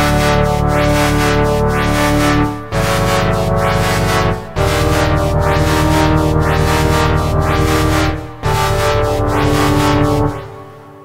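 An Arturia PolyBrute synthesizer holds a dense, buzzing chord, swept by a rhythmic filter that rises and falls about twice a second. The chord changes about every three seconds. It is loud and continuous, with no talking.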